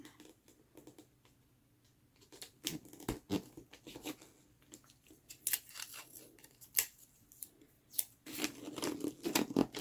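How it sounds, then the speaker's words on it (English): Strips of tape are torn and pressed on while gifts are wrapped in paper, making quiet, close bursts of crisp ripping and crinkling separated by soft pauses. "Now I'm going to do a couple of pieces of tape on this one."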